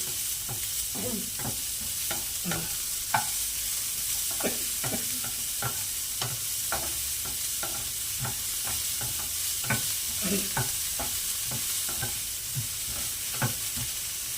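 Chopped onions frying on a slow flame for cauliflower pulao, stirred with a spoon: a soft continuous sizzle broken by regular scraping and clinking strokes, close up, with no voices.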